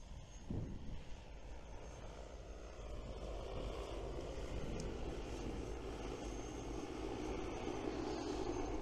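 DJI Agras T30 agricultural drone spreading granular material overhead, a steady propeller whir that grows slightly louder partway through and holds as a continuous airborne drone with no speech.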